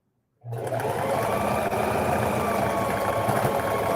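Sewing machine stitching an infinity scarf, starting abruptly after a brief silence and then running as a steady, close mechanical whir and hum for the rest of the span, with no talking over it.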